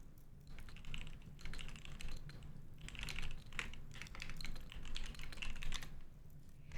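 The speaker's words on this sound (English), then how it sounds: "Everyone always comments on the keyboard sound." A computer keyboard is typed on in quick, irregular bursts of close, crisp keystrokes over a low steady hum, with no talk.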